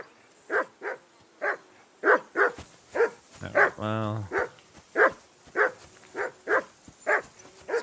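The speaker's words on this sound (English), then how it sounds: "that barking's driving me nuts. Can you get your dog to shut its beak?" A dog in Kingdom Come Deliverance 2 barks repeatedly in a steady rhythm of sharp, close, loud barks, with a brief patch of speech partway through.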